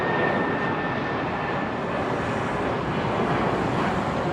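Vietnam Airlines flight 78, a heavy airliner departing Heathrow Airport with its landing gear down, a loud continuous broadband jet roar with wind buffeting, no speech.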